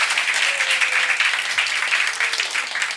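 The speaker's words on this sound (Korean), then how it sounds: "다시 한번 박수해 주실까요?" Applause from a church congregation welcoming a two-person welcome team, a steady, dense wash of many hands clapping that fills the room, loud and continuous throughout.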